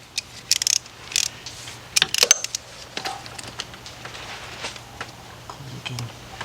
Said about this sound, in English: what I like to use is my swivel head ratchet.